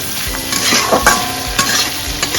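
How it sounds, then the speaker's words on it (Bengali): Dry fish fries loudly in a hot pan with turmeric, Kashmiri chili powder and hot chili powder, a dense crackling sizzle broken by rhythmic scrapes of a stirring spatula. "গ্যাসের ফ্লেমটাকে বাড়িয়ে একটু ভাজা ভাজা করে দিন"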